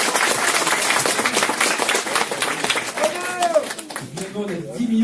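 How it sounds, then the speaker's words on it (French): An audience applauds in a room after a talk at a live Azure DevOps workshop, a steady dense wash of clapping that holds for the whole stretch while a voice speaks over it toward the end. "C'est un tonnerre d'applaudissements"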